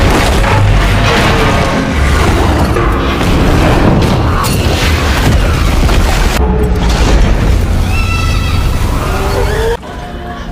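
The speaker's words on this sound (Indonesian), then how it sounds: "Tapi tiba-tiba Dreyfus menekan tombol peledak dan meledakkanlah menara tersebut" A tower is blown up by a detonator in a film scene, with a long, loud blast of booming, crashing and rumbling debris that continues for several seconds before cutting down sharply near the end, with no talk.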